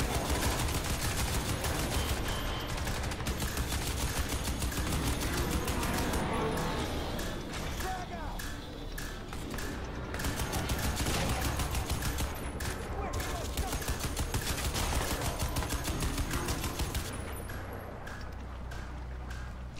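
Gunfire in the video game Crysis 2, heard as dense, continuous rapid shots and bursts throughout, loud and close, blended with other game effects.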